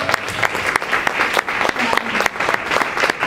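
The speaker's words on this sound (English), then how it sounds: "So give ourselves a round of applause." Audience at a college anniversary ceremony on a North Campus breaks into sustained applause, a dense wash of clapping that holds steady throughout without any voice rising above it.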